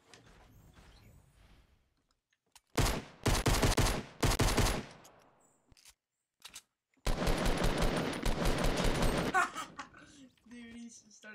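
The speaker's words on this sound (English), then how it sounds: "He literally just started randomly shooting." Bursts of automatic gunfire in the Fortnite battle royale video game, two loud volleys separated by a pause, with quieter game ambience and a brief voice around them.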